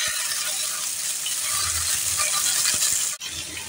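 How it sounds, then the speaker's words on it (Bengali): Eggplant, ridge gourd, potato and pointed gourd hitting hot oil tempering in a pan, a loud steady hissing sizzle with a few soft clunks, briefly dipping then resuming. "আমরা এখন এর মধ্যে সবজিগুলোকে ঢেলে"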